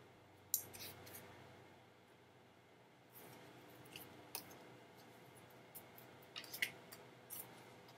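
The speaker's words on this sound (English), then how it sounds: "Just keep shuffling here right now." Soft, faint papery rustles and occasional light clicks and taps recur irregularly, like tarot cards being shuffled close by in a quiet room.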